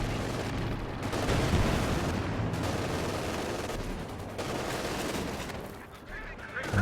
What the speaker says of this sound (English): Panther getting some lucky shots off here